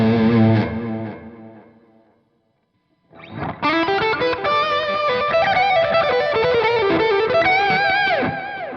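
An electric guitar played through a multi-effects unit wired with the four-cable method, with distortion and chorus: a sustained chord rings out and fades, then after a short silence a steady run of distorted, sustained notes follows, loud and alone.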